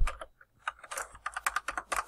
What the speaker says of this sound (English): just type in that password